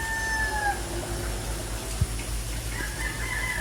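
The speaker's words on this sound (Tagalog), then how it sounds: "Mga manok." Chickens cluck and a rooster crows faintly in the distance in rural Real, Quezon, Philippines, with a steady rural background hum and a single sharp knock midway.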